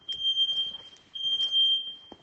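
A home smoke detector goes off in a smoky room and sounds two long, piercing, shrill tones in a row, with a short gap between them and no voices.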